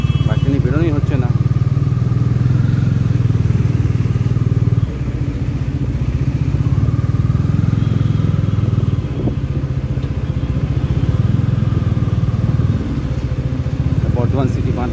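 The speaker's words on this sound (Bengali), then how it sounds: "অনেকদিন বাদে বেরোলাম বাইকটা নিয়ে বেরোনোই হচ্ছে না" A motorcycle ridden on a winter afternoon through town roads gives a steady, loud engine drone that continues throughout, with faint clatter and small shifts in pitch as the bike moves.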